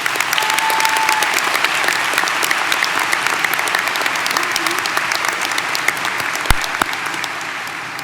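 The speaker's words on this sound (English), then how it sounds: "Audience, please join me with a round of applause to thank our parents, grandparents, friends, and families for their support." Sustained applause from a large crowd at a high school graduation ceremony, continuous and fairly loud, tapering slightly toward the end with a couple of sharp knocks.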